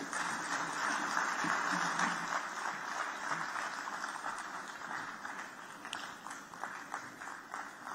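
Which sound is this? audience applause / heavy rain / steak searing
audience applause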